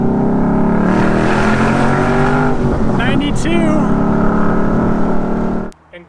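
A 2013 Ford Mustang Boss 302 with the side-pipe restrictor plates removed idles after a cold start, a loud, steady low rumble close to the driver's-side pipe, before it cuts off abruptly near the end with a brief voice.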